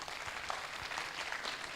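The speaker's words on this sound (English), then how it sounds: "Give yourself a big round of applause." A university audience in Pune claps at a talk, a soft, steady, fairly distant patter of many hands with no speech over it.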